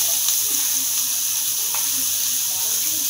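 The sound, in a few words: onion and black cumin frying in oil after hilsa fish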